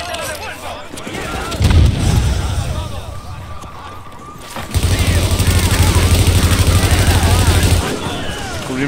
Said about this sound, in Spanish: Un otro disparo. Tiroteo.